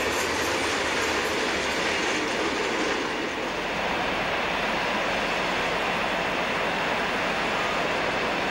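A Soviet-built Taigatrommel diesel locomotive in blue with a red stripe hauls a construction train, a loud, continuous roar of engine and rolling wagons with rattling wheels, steady throughout and heard close by.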